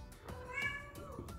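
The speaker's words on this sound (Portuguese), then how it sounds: "esse é o gato fazendo bagunça" A cat meows several times in short, close, moderately quiet calls while making a mess indoors.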